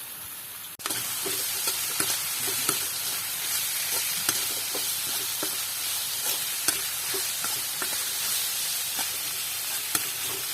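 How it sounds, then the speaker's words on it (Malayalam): Onions frying in a pan for an onion-tomato chutney, a steady loud sizzle with spoon scrapes and light knocks as they are stirred, continuous throughout with no talk. "ഇനി നമുക്ക് ഇത് ശരിക്കൊന്ന് ഇളക്കിയെടുക്കാം"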